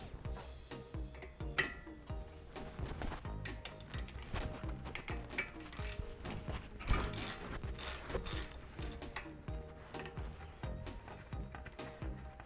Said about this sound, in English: you'll need a 17 to hold the inside here while you unscrew it